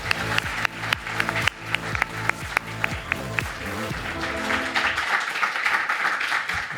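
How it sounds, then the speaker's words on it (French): Studio audience clapping and cheering at a French talk show as a segment begins, a rhythmic music-like beat early on giving way to a sustained dense wash of applause that fills the second half. "T'as vu, c'était bien les applaudissements."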